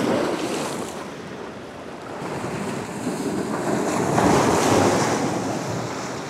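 Big ocean waves crash and surge against a rocky shore at Mundywari Beach in Balochistan, a loud continuous wash that swells toward the end, mixed with gusty wind buffeting the microphone.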